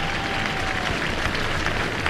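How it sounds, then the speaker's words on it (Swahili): Crowd applause at an outdoor military air show as a team departs the field, a steady dense wash of clapping filling the whole moment without pause. "Tuwape makofi wana Green Eagles wanapoondoka hapa uwanjani."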